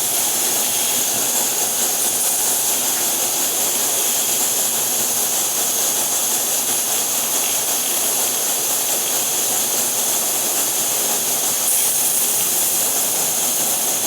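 Two MSR Whisperlite camping stoves, one old and one Universal model, roar with a steady, loud, broadband hiss of burning flame while boiling water, unchanging throughout with no voices.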